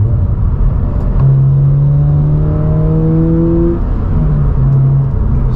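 A 2022 Subaru BRZ engine fitted with an MST cold air intake, K&N drop-in filter and charcoal filter delete, revving up in a long rising pull, loud and close, then settling and blipping again with no talk.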